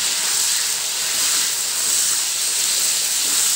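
Chicken and potato pieces frying in a pan for biryani, a steady, loud, broadband hiss of sizzling oil heard close and unbroken throughout.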